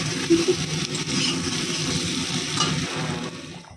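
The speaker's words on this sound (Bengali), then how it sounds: "এই যে মশলা দিয়ে খুব ভালো করে কষিয়ে নিয়েছি এবারে দিয়ে দেব জল" Water hits a pan of sautéed spice masala for an egg curry. A loud, steady sizzling hiss holds evenly, then cuts off sharply at the end.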